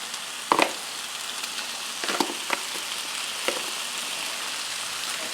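Pork frying and caramelizing in a pan with jalapeno, sizzling steadily with a few sharp crackles and pops over a constant hiss, close up and with no talking.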